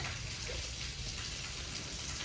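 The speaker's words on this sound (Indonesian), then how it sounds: "Sambil menunggu hujan reda" Rain falls at night in a faint, even wash of soft patter and hiss, heard alone with no talking.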